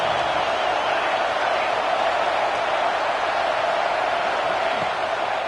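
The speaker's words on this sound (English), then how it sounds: "this crowd is at fever pitch" A football stadium crowd roars during a third-down play in the red zone at a Texas A&M versus USC game, a loud, sustained, even wash of crowd noise with no breaks.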